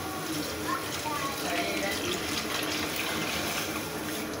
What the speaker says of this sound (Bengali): আর এখন আমি এই স্যুপটাকে এটাতে ঢেলে দিচ্ছি।